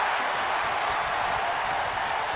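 Stadium crowd cheering and applauding at a sporting event: a dense, steady roar of many voices and clapping fills the whole stretch at an even, loud level, with no clear break.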